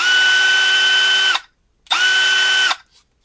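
Milwaukee M12 Fuel cordless installation drill running at its lowest speed, a steady whirring motor whine in two bursts of about a second and a half each, separated by a short silence, loud and close.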